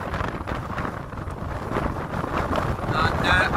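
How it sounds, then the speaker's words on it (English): Strong wind buffeting the microphone in heavy, continuous gusts, a rough roaring rush with no letup. "it is very, very windy here at the moment."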